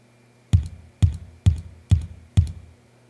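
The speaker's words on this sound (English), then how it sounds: "I used two toms, and they're both like lower sounding" A deep, low-pitched tom drum sample for a Kid Cudi–style hip-hop beat strikes five times in a steady, evenly spaced rhythm, each hit punchy and booming with a short decaying tail, played alone with no talking.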